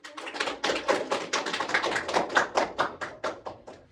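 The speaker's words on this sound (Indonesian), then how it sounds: "Beri tepuk tangan kepada Mbak Dina" A classroom of students claps for a classmate, a loose, ragged run of about a dozen sharp claps of varying loudness, close by and without talk.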